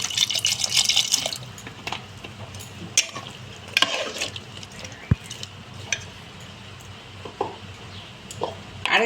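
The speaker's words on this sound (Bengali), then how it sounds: "সেই জন্য আমি একটু জলটা দিলাম।" Water poured into a pot of vegetarian five-lentil dal cooked with pumpkin greens: a brief hissing splash at the start, followed by light drips and kitchen clatter.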